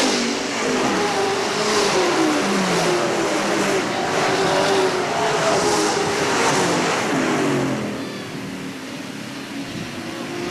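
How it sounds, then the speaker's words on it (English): Several race car engines roar and rev loudly as they pass nearby on the Hales Corners Speedway dirt track, pitches sweeping up and down before fading slightly toward the end. "Al Teachin now works his way into the top 5 with car number 1"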